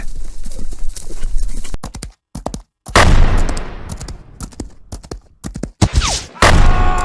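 Horses galloping in a dubbed Western action scene, loud rapid hoofbeats with neighing, broken by abrupt cuts and bursts of gunfire.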